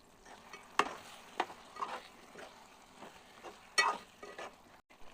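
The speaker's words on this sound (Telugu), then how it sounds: "ఇప్పుడు ఒకసారి మెల్లిగా కలుపుదాం" Chicken curry gravy frying in a pan and being stirred slowly, soft scraping strokes and gentle sizzle at an uneven pace, quiet and close with no talk.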